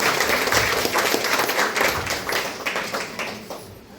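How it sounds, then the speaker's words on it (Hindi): An audience at a block-level International Women's Day event in Mau claps to welcome a guest. The clapping is dense and steady at first, then slowly thins and fades toward the end. "मैडम का तालियां बजाकर स्वागत किया जाए"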